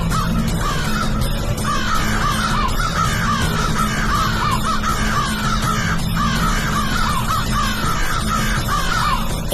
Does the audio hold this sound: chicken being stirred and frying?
no